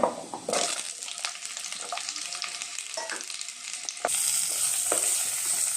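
Raw green mango pieces fry in a wok with panch phoron and dried red chilli for a sweet chutney, a steady crackling sizzle stirred throughout that swells into a louder, brighter hiss near the end.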